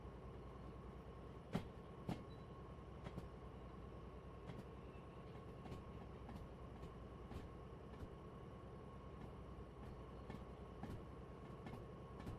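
A DE2 locomotive in a train-driving video game rolls along with a steady rumbling drone. Faint rhythmic clicks of wheels over rail joints repeat at intervals, quiet and continuous, with no speech.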